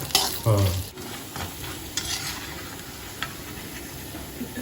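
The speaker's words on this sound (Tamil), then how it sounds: "இந்த முந்திரி பருப்பு, இந்த பொட்டுக்கடலை, இஞ்சி நல்லா வறுத்துட்டு" Cashews, roasted gram and ginger dry-roasting in a pan while being stirred, giving a steady close sizzle with scraping strokes throughout and no talking.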